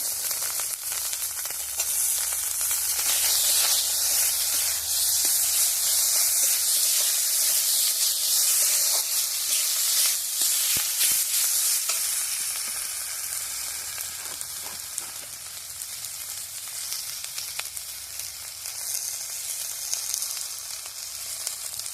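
Tomatoes hitting hot oil in a home kitchen while cooking a vegetarian green banana curry, giving a loud, steady, bright sizzle that holds for the whole stretch and eases off slightly toward the end, with no talking.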